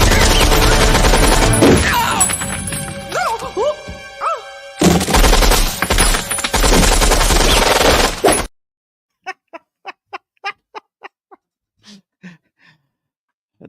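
Gunfire from a machine gun in the action film True Lies, dense and loud under a thick movie soundtrack, then a handful of sharp, separate shots ringing out against near silence toward the end.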